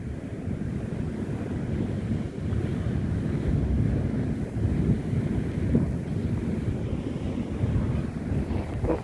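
Ocean surf rolls onto the beach at Goodrington Sands near Paignton, a continuous loud wash of waves mixed with heavy wind buffeting the microphone.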